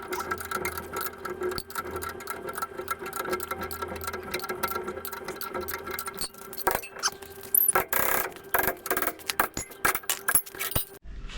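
Nuts being undone from the U-bolts on an old HJ47 Toyota Land Cruiser chassis give close metallic clinks and ratcheting taps, coming faster and louder in clattering bursts toward the end.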